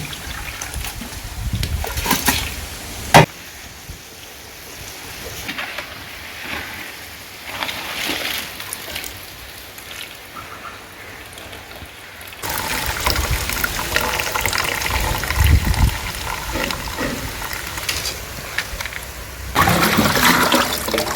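Water sloshes and splashes as soaked spices are rinsed for masala powder, with intermittent pouring and swishing bursts, fairly close, louder near the end, and no talk.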